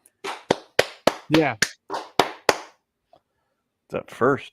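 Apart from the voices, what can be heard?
person clapping hands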